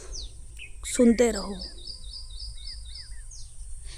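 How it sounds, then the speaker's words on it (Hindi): Small birds chirp and twitter from a wire on a quiet evening, scattered short calls near and far with a soft steady hum beneath; a person speaks briefly partway through. "तार पे चिड़िया बैठी है, चिड़िया की आवाज़ें बस"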